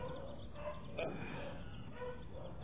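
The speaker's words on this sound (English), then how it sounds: "They're barking at me." Dogs bark at a person in short, repeated bursts, fairly faint and somewhat distant, with no one speaking over them.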